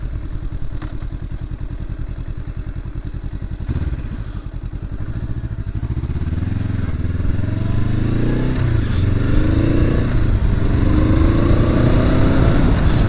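A 2023 Honda SCL500 Scrambler motorcycle rides along a back road, its engine loud and close with a steady drone that climbs in pitch as it accelerates through the gears, with a couple of dull thumps early on.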